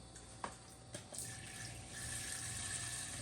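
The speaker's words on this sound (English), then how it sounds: "It may squirt some water, so just be prepared because it's building up pressure." Water hissing and spraying from the ice dispenser of a Samsung refrigerator during defrosting, rising into a steady, fairly loud rushing stream after a few faint knocks and drips at the start.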